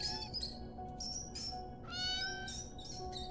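A cat meows several times in the video game Copycat, a string of high, fairly faint mews over a low background hum with short pauses between them.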